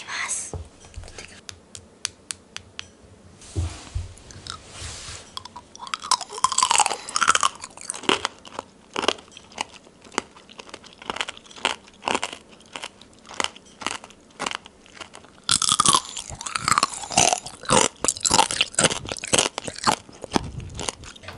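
Close crunchy chewing and biting of candied mandarin orange slices with a thin, brittle sugar coating: repeated crisp crackles in bursts, intimate and fairly quiet, with faint breathy sounds between bites.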